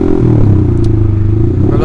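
Honda CBR150R motorcycle fitted with an Austin Racing aftermarket exhaust, idling and revving close up with a loud, steady, throaty engine drone throughout, a voice talking briefly over it.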